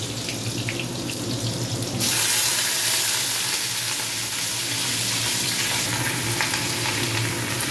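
Ridge gourd and potato sizzle and crackle steadily in hot oil in a wok, the frying growing louder as the vegetables hit the pan, with no voices.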